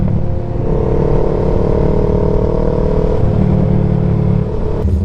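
An older Super Four-style motorcycle close behind a rider on the road gives a loud, continuous engine rumble that holds steady for several seconds and then drops off near the end.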